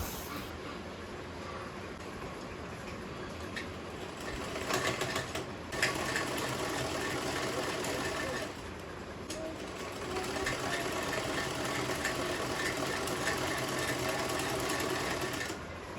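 Sewing machine stitching a suit, running steadily at a fast even pace through most of the stretch, with short pauses near the middle, close and fairly loud.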